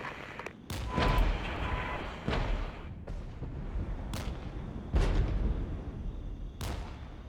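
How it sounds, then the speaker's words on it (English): Artillery and mortar fire in the Regiments war game: repeated heavy booming impacts land every second or so over a constant rumbling battle din, some blasts close and loud, others more distant. "We are catching artillery fire from down there"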